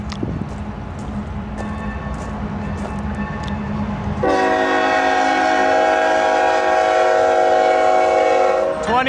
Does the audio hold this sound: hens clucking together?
no